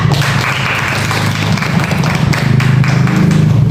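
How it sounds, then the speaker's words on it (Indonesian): Classroom applause for a student, steady dense clapping from many hands at close range, continuous and fairly loud throughout. "Oke, kasih aplaus dulu untuk Isra."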